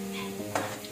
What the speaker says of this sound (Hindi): अब इस भरते को हम लोग करेंगे फ्राई, थोड़ा सा ये लहसुन लाल हो जाए।